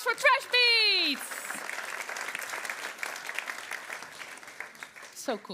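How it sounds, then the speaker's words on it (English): An event audience on rethinking waste bursts into loud, sustained applause for the percussion group Trash Beats, with whoops and cheers over dense clapping that fades slightly toward the end. "Big round of applause for Trash Beats!"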